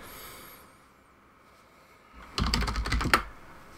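Rapid burst of computer keyboard keystrokes entering a password in a Linux terminal on a Raspberry Pi 2, close and crisp, about a second of clustered clicks after near silence.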